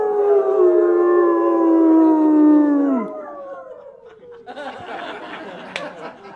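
A group of people imitate wolf howls together, with long sustained rising and falling voiced howls that break off and are followed by scattered laughter and chatter.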